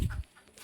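Hens in a farm chicken shed give a quick burst of clucking, loud and close at the start, then fade to faint murmurs with a small flick of sound near the end.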